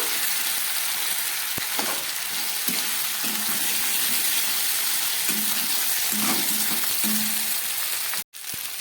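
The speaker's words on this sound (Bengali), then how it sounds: "আর দিয়ে দিচ্ছি একটু শুকনো লঙ্কার গুঁড়ো। এবার এটাকে আরেকটু ভেজে নেব।" Cumin and dry red chilli powder frying in a pan for moong dal with vegetables and fish head, a continuous close sizzle with a few soft spoon scrapes and a brief cut near the end.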